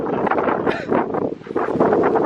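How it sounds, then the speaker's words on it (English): Wind on Primrose Hill in London rushes and thumps against the microphone in steady, loud gusts with brief dips, filling the short moment. "It's so windy."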